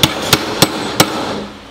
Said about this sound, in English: Then after that, you'll take a punch, stick it down where the hole is.